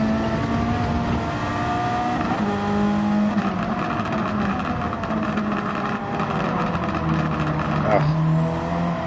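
A race car in Gran Turismo 7 under throttle, its engine loud and close with a revving tone that climbs and shifts pitch, and brief tire squeal around gear changes and corners.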